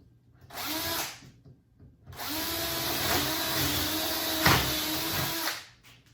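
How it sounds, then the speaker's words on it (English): A power drill whirs up in a short burst, stops, then runs for a long steady stretch with a brief bite as it cuts through wood, before winding down. "So I'm going to use this big drill."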